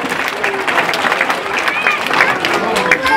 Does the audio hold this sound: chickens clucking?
no